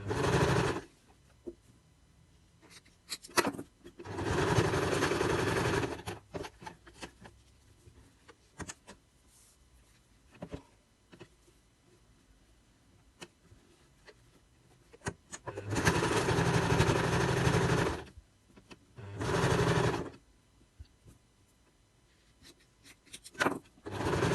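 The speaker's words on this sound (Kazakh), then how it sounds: "Енді соңғы қатарды мен жылтырматасыз, тек қана осы көк матаммен айналдырып жауып шығамын." Sewing machine stitching the border of a patchwork quilt with blue fabric, running in several loud bursts of a few seconds each, separated by quieter pauses with small handling noises.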